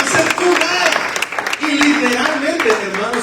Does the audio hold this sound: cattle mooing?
no